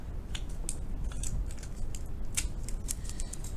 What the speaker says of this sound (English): Just using some tape.